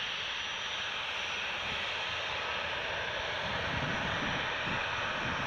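Ryanair Boeing 737 on final approach to Newcastle Airport, a steady broad engine roar with wind buffeting the microphone, distant and constant throughout, no talking.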